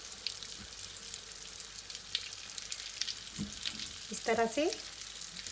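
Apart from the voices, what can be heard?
chicken hot rods frying in hot oil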